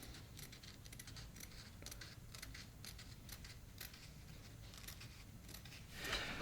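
Scissors trim a fabric seam allowance in a quiet room, a run of soft, close snipping cuts in a loose rhythm, faint overall, with a brief rustle at the end.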